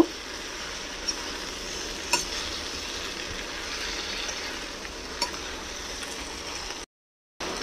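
Cut bottle gourd being stirred in a pan with a steady soft sizzle and scraping, a few brief louder clinks of the spoon, close and continuous with no talking, ending in a short silence.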